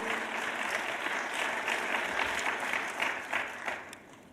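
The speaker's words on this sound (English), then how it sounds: "please give a round of applause for Laura" An audience at a university arts and humanities awards symposium claps for an award recipient, a sustained wave of applause that holds steady and then begins tapering near the end.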